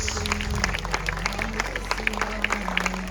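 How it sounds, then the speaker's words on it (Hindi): Audience clapping at a school Ramayan skit as cast names are called out, with scattered sharp claps over a low hum of a sound system and a faint background voice. "तालियां गूंजती रहे"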